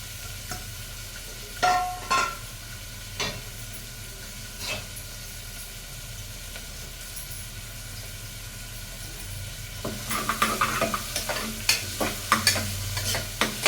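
Onions and green chillies fry in oil in a pan, a soft steady sizzle with occasional stirring clatter early on and busier scraping and stirring knocks in the final few seconds.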